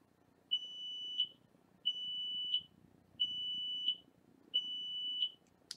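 An Arduino mini roller coaster control panel emits a steady pattern of high-pitched electronic beeps, four long tones in a regular rhythm, each with a short chirp at the end, no talking.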